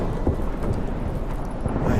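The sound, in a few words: thunderstorm with rain, from the video game The Witcher 3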